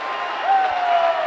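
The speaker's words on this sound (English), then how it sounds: "As you can tell, we have a very excited crowd" An excited crowd at a high school wrestling meet between Melrose and Wakefield roars in a steady, dense wash of cheering and applause, filling the gym without pause.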